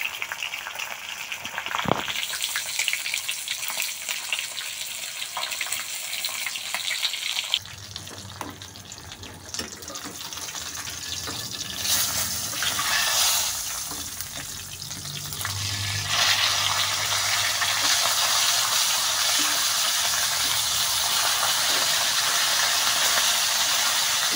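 Loud hissing and bubbling of fish frying in hot oil, rising to a steady roar partway through, with a few clatters at the start.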